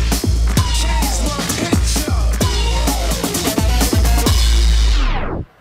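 A track chopped into segments and triggered live by a DJ from a pad of buttons, loud with heavy regular bass kicks and dense electronic layers, cutting off abruptly at the end.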